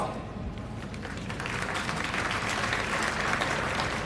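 Sustained applause from a large crowd at a military academy passing-out parade, a steady wash of clapping heard at a distance, with no voices rising above it.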